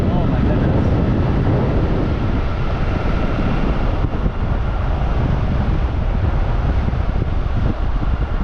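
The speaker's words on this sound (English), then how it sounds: "It's so windy." Loud, steady wind roars and buffets against the microphone throughout, a constant rushing noise with a faint voice buried underneath.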